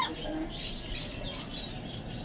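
Caged budgerigar parakeets give quick, high chirps and tweets, several short calls in a row over a soft background hum, with a voice faintly present.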